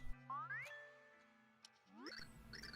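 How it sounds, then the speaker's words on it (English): Bright bell-like tones ring out in a few rising chimes in the video game Super Paper Mario, clear and sustained over a quiet, hushed background. "I hear bells."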